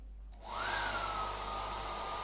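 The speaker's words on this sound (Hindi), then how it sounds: "अब मैं हेयर ड्रायर ऑन कर रहा हूँ" A hair dryer is switched on behind a microphone being tested, a sudden broadband whoosh with a rising whine that settles into a steady, fairly loud blowing hum after a short quiet start.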